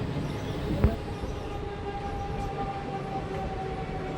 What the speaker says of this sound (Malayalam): ഈ ട്രെയിൻ ഷൊർണൂരിലേക്കുള്ള പാസഞ്ചർ തന്നെയാണ്, പക്ഷേ AC കമ്പാർട്ട്മെൻറ്റൊക്കെ കാണുന്നുണ്ട്.